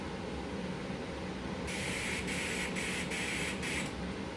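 Air blown through a Flake King 500 airbrush adaptor to clear out leftover flakes: a steady hiss that starts partway in and is broken by several brief interruptions, over a constant background noise.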